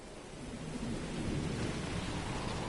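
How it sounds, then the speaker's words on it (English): Rain and rolling thunder on a planet in the video game Starfield, a dense, steady wash of rainfall with a low rumble beneath it and no talk. "Wait, it's rainy on this side of the planet."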